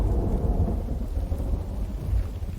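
Heavy rain and rolling thunder in the survival building game Infected, a dense, continuous low rumble with a hiss of downpour and no talking.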